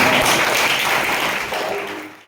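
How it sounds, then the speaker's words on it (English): An audience applauds a presenting team at a World Intellectual Property Day event, a dense steady patter of many hands clapping that fades toward the end. "Please give a big round of applause for the team."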